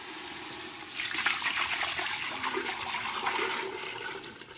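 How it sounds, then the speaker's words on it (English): Chicken stock is dumped into a GoWise USA pressure cooker pot over simmering garlic, making a broad, steady gushing pour that swells after the first second and runs on for several seconds, close and fairly loud. "Now we're gonna dump our stock in."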